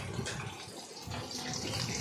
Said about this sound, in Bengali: এইটাই করে আমি জল ভরে নিই